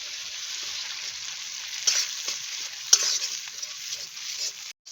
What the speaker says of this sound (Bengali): আদা রসুন দিয়ে এক মিনিট ভেজে নিলাম